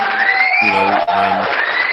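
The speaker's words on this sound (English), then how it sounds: "let me give him a round of applause" A crowd cheers and whoops in a brief round of applause honoring a player from Taiwan who reached the G League, with tonal shouts rising over a loud, steady wash of noise.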